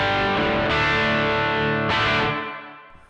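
An electric guitar played through a Keeley Supermod pedal's big, pronounced reverb into a dirty amp channel rings out in two distorted, shimmering strums, then decays and fades.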